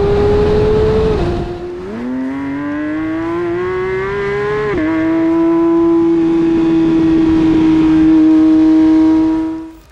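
A 2023 Porsche 911 GT3 RS, 525 hp and revving to 9,000 rpm, on track at Silverstone: the engine note dips, then climbs as it accelerates hard, and it holds a loud, sustained high wail before cutting off.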